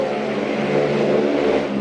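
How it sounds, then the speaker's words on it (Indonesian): A motorbike passes close by, its loud engine a steady, rough drone that holds for about two seconds with no talk. "ada motor lewat."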